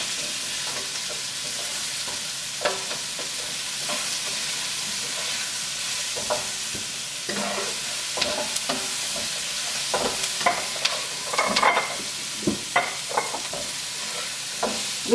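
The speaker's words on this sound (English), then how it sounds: "You can smell the fragrance now with the onion and the pepper frying." Onion and pepper sizzle steadily in a hot pan while being stirred, with scattered clinks and scrapes over the constant frying hiss and no talking.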